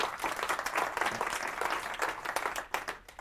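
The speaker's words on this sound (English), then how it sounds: "So a big hand of applause for Alexander" Applause from an audience at a FOSDEM 2015 Internet of Things developer room, dense steady clapping that fills the space for a few seconds and thins out toward the end.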